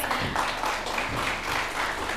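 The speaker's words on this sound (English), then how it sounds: "A bigger round of applause, please." A crowd applauds steadily for about two seconds after a conference technical session panel, a dense, even patter of many hands clapping without any voices on top.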